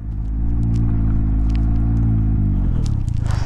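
Can-Am Ryker three-wheeler rolling along a field path, a steady low engine rumble with a deep harmonic drone throughout, close and loud, with light crackle and rustle toward the end.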